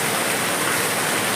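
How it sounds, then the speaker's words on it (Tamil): Heavy rain pours down in daylight onto a road, a dense and steady roar of hiss with no pauses, close and loud throughout. "இப்போ தான் இந்த நல்ல மழை பெய்யுது."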